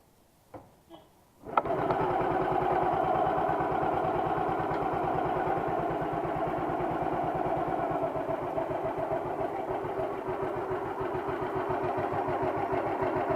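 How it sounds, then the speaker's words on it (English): After a couple of soft thumps, a 2003 Royal Enfield Bullet Thunderbird kick-starts and settles into a steady, close idle. A fine rapid ticking from the tappets runs through the engine's thrum. "There's a bit of tappet noise there."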